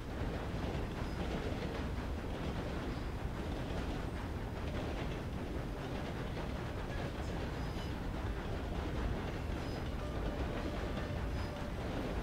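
Train wheels clatter steadily along rails in Red Dead Redemption 2, heard from inside a carriage as a continuous low rumble with faint clickety-clack and occasional squeals, with no talking.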